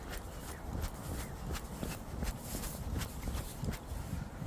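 Jogging footsteps outdoors beside a river land as quick, regular light thuds. They are close but quiet against soft outdoor background noise.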